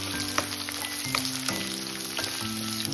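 Capsicum and onion pieces fry in a hot pan with a steady, close sizzle and crackle, with a few light stirring scrapes and no voices.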